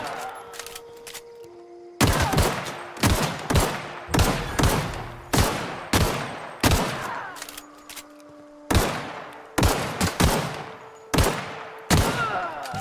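Gunfire in The Outer Worlds video game: repeated sharp, loud shots ring out in an irregular rhythm, each followed by a short echoing decay, with quiet gaps between some shots.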